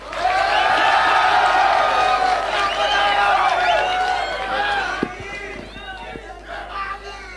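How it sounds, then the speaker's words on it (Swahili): A large outdoor crowd at a Raila Odinga Azimio la Umoja rally in Tharaka Nithi roars and applauds for the Meru County governor, a dense, loud wash of cheering and clapping that thins toward the end as scattered voices rise. "Makofi kwake."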